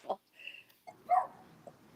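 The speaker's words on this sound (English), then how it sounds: "Apologies if you hear barking." A neighbor's tiny dog lets out a few short, high yaps spread across two seconds. They are fairly faint and come from some distance, with a voice-like sound mixed in.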